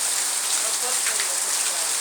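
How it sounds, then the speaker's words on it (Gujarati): Torrential rain falls on the village of Vejalka, Ranpur taluka, Botad district, a constant loud sheet of hissing drops with scattered sharper patters on nearby surfaces. "વરસાદ પડી રહ્યો છે અતિ ભારે"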